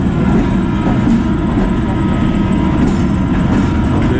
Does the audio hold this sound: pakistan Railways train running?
yes